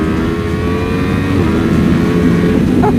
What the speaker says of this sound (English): did you hear that pop on the downshift?